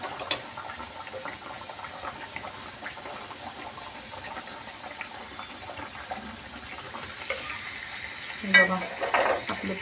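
Puris dropped into hot oil to fry, giving a steady low bubbling sizzle throughout, with a brief louder burst of crackling toward the end, close and moderately quiet.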